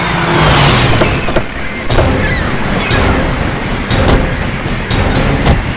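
A car rolling to a stop amid loud road and engine noise, with several sharp knocks and thumps spaced through the sound.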